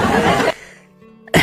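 A short, harsh cough burst, a pause of near silence, then another rough cough close to the listener.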